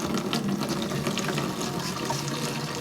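Water poured into a jerry can outdoors in Uganda, a steady, continuous splashing and gurgling flow, close and fairly loud, with no talk over it.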